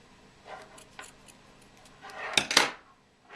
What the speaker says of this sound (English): Then just cut your yarn.